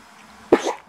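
A single short sneeze, seemingly from a baby at home, sharp and close with a brief breathy tail, alone in a quiet room.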